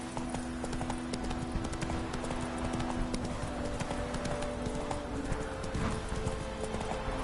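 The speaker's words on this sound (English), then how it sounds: "Run, Roach." Roach, a horse in The Witcher video game, galloping with a steady, rapid clip-clop of hooves, close and clear against a busy game-world backdrop, with no talk.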